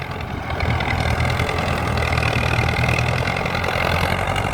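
Bulldozer engine working hard while pushing a full blade of soil to build a field entrance road, a loud steady diesel rumble that swells slightly and holds throughout.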